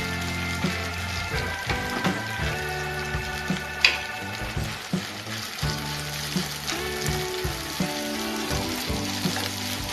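Onion, garlic and cooked white rice frying in a pan, a steady close sizzle with intermittent stirring scrapes and clinks, no talk.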